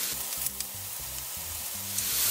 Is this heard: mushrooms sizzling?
yes